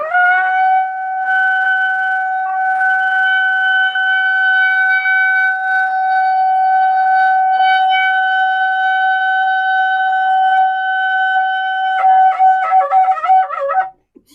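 A shofar sounded for Rosh Hashanah as a long sustained tekiah gedolah: a steady, loud horn blast with strong harmonics holding for about twelve seconds, then breaking into wavering, fluttering notes before stopping abruptly.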